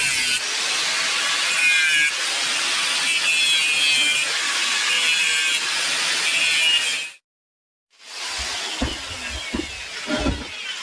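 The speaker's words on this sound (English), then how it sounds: "We'll grind into the crack." Angle grinder cutting into a crack in an aluminium wheel, a loud sustained high-pitched grind for about seven seconds, a brief pause, then renewed grinding broken by a few lower knocks.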